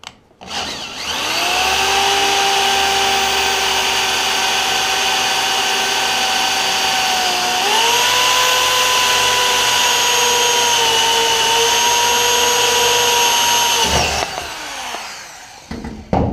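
A power drill bores a hole in hard aluminum on a Humvee top, a loud, steady whine lasting about twelve seconds with a slight pitch shift partway through before it stops.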